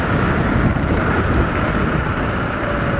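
Heavy wind buffets the microphone in a continuous low rumble, loud and unbroken, with no voices.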